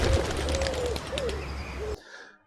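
Pigeons cooing close by in soft, repeated rising-and-falling calls over a steady background hum, ending abruptly after about two seconds.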